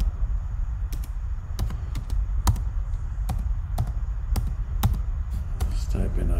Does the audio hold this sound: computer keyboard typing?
yes